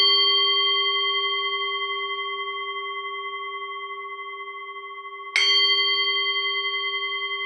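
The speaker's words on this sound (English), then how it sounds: "I'll ring the bell and then we can get started" Meditation bell struck to open a session: one clear, ringing tone that slowly decays, then a second strike renews the shimmering ring, in quiet surroundings with no talking.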